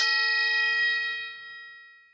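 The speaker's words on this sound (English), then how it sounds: "Here's our prayer bowl standing in for our gong." Metal prayer bowl struck once like a gong, giving a bright ringing tone with clear overtones that sustains and slowly fades away.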